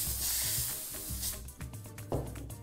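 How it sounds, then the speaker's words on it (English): Cooking oil sprays in short hissing bursts over baked vegan taquitos, with a few close, breathy spritzes following one another under faint background rumble. "we're gonna use a little bit of cooking oil and spray them across all of our taquitos"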